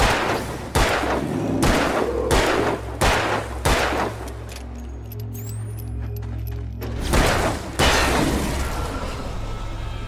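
Gunfire in the Alan Wake video game: a string of loud, evenly spaced shots, about seven in all, with a ringing lull partway through, then two more sharp reports near the end.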